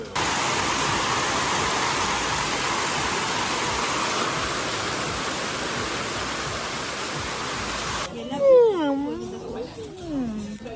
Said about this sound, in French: Ici, quand il y a des vagues.